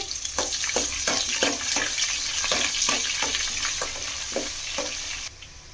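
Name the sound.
thinly sliced onions frying in oil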